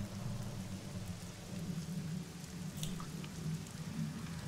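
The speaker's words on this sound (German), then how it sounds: "Sturzregen, der über euch gegen die Fenster klatscht und es tropft dann vom Tempel herunter." Heavy downpour drums against windows in a steady, dense hiss, with dripping and a low rumbling undertone of thunder, continuous and enveloping with no voices.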